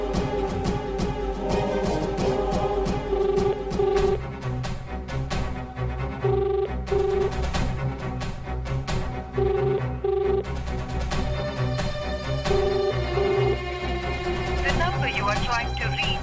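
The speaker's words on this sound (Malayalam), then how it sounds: "റിംഗ് അടിക്കുന്നുണ്ടോ? സ്പീക്കറിലിട്." A telephone ringback tone on a call, set in a Malayalam TV serial drama scene, comes as short paired beeps repeating about every three seconds, mid-level under steady background music.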